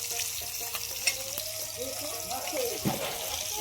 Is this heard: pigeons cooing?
no